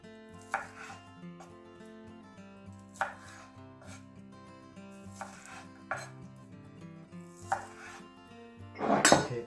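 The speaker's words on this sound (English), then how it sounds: "Just cut them in half." A knife chops asparagus tips in half on a board for cream of asparagus soup, with a handful of crisp, evenly spaced cuts close by and a final louder, denser burst, all over soft background music.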